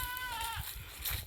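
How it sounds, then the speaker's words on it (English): Goats bleat on a farm, with one clear wavering bleat followed by fainter livestock noise and rustling around it. "I saw goats where there wasn't normally goats."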